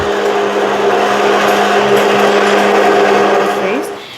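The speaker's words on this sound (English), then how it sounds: "So you blend just this way" A blender whirs steadily at high speed while mixing a face cream emulsion, loud and constant for nearly the whole stretch before winding down at the end.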